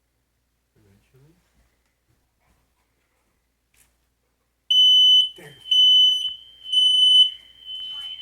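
A home smoke alarm during a family fire drill sounds three loud, piercing beep bursts in a repeating pattern after several seconds of near silence, with a brief spoken word and a dog whimpering faintly underneath.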